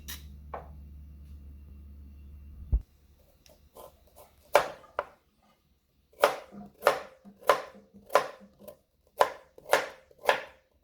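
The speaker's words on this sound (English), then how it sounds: "I'm using also a carrot, so I'm just scraping it off" A fresh carrot is scraped by hand for a Jamaican-style steamed snapper dish: about a dozen short, crisp scraping strokes in an uneven rhythm, close and fairly quiet, following a brief low hum at the start.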